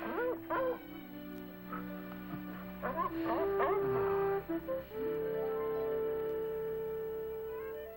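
Brandy the dog yelps, whimpers and barks in a series of rising, whining cries over the first half, then lets out a longer drawn whine, all set against sustained orchestral music.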